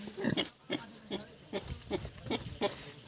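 A pig grunts repeatedly in short, close bursts, about seven grunts in a loose rhythm with brief quiet gaps, in a farm setting where a new pigsty has just been built.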